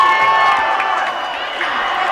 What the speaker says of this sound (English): Scooper crowd gets loud.